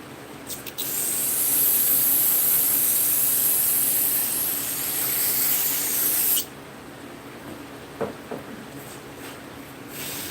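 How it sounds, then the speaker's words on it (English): A spray of liquid hisses steadily and loudly onto the fuel hoses of a Stihl FS55R brush cutter as a leak check, then cuts off, leaving quieter background with a few small knocks. "I'm going to spray these hoses real quickly just to make sure I don't see no leaks"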